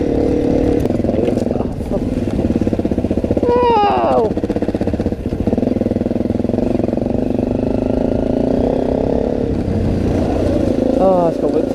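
An off-road enduro motorcycle, a full enduro Husqvarna on knobbly tyres, drones and revs loudly and continuously nearby, with brief exclamations from riders breaking through over the engine.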